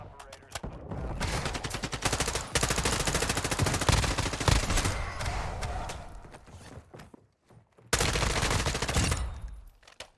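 Automatic gunfire in Modern Warfare 2's DMZ mode rattles loud and close in sustained bursts, with a brief pause near the end before another burst; no talking.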